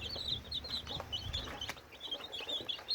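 Young chickens raised after their mother died peep and cluck continuously at close range, a busy chorus of high chirps over soft low clucking, with no talking.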